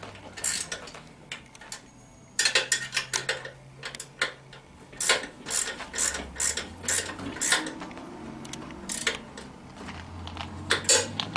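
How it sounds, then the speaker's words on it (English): A ratchet tightening the chain adjuster bolts on an ATV, sounding as bursts of rapid close metallic clicking with pauses between, over a quiet background, with no talk. "So I'm just going to tighten those down now, and that'll keep the chain where it's at."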